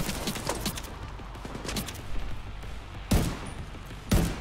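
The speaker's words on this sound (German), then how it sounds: "Oh, wo kommen denn die Schüsse her?" Video game gunfire in The Division 2: bursts of rapid gunfire crackle early on, followed by two sharp, louder shots spaced about a second apart, with a faint chirp in the background.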